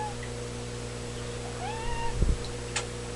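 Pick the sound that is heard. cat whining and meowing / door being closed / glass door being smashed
cat whining and meowing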